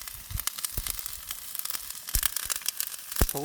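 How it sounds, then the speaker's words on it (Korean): Salt crackles and pops on thick pork neck grilling over a wood fire on a hot stone slab, with rapid irregular snaps over a soft steady sizzle, close and fairly quiet. "소금 터는 소리가 따닥따닥따닥따닥 하네요."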